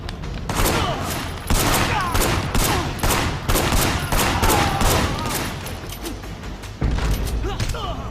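Heavy gunfire in the open-world action game Sleeping Dogs, with dense bursts of automatic fire and sharp shots crackling continuously over several seconds, loud and close, with a renewed volley near the end.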